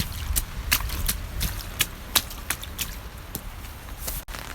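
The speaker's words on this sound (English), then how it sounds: "If you have rain boots, stamping in puddles is so much fun." Rain boots stamp into puddles in a series of sharp, wet splashes and slaps, irregularly spaced and fairly close, with no one speaking.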